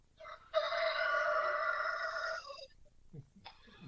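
A rooster lets out one long, loud crow lasting about two seconds, followed by quieter rustling and faint clucking-like sounds.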